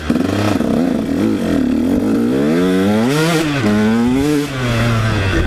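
A KTM-style 150 SX two-stroke dirt bike on a trail ride revs loudly and close, its engine pitch sweeping up and down repeatedly with a raspy, buzzing tone throughout.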